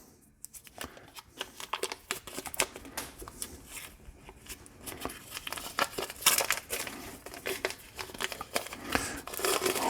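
Paper wrappers are peeled off sticks of butter for homemade toffee, a close run of crinkling, rustling and tearing bursts that grows busier and louder toward the end, with no talk.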